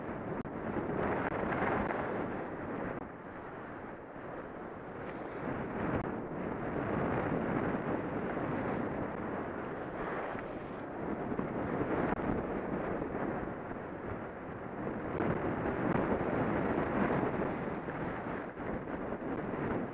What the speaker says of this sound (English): The wind's blowing the light snow all over.